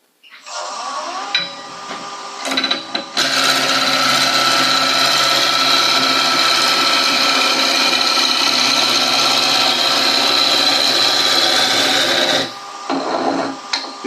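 A wood lathe spinning a spindle blank, its motor whine starting up, holding a loud steady hum with a faint high tone for about nine seconds, then winding down, with brief tool noises before and after.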